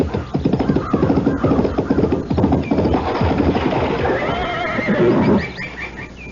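A horse whinnies loudly over a busy radio-drama sound-effect bed, with clip-clop hoofbeats and rumbling movement running under the call for several seconds.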